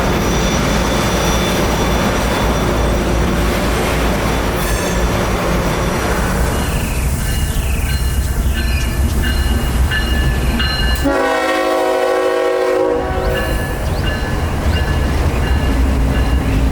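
A CSX freight train rolls past the old Bradenton Depot, a steady loud rumble of railcars with a horn blast partway through and wheel and brake squeal layered over the continuous din.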